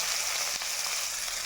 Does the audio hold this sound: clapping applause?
no